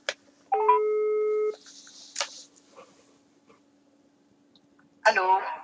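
An outgoing phone call sounds a single long electronic tone, followed by scattered faint clicks and a brief whispery voice, then a voice answers at the end.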